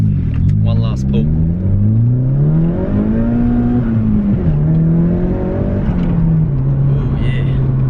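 Car engine revving hard through a full-throttle acceleration pull, a loud close drone climbing in pitch with a shift and a second climb, on semi-slick tyres.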